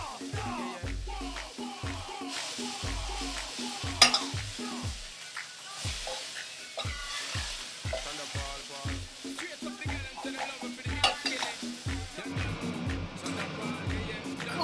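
Chicken frying in oil for pollo encebollado, sizzling steadily with repeated crackles and pops throughout, with kitchen clatter mixed in.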